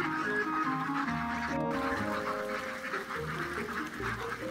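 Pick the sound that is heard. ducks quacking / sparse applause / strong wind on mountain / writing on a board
ducks quacking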